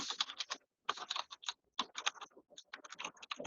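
Quick keystrokes on a computer keyboard, clicking in short bursts with brief pauses as a place name is typed, close and clear with no talking.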